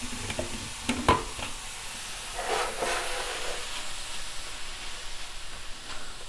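Mushrooms and onions fry in a sauté pan on a flat-top at medium-high heat, giving a steady, moderately loud sizzle with a few sharp clanks and stirring scrapes early on.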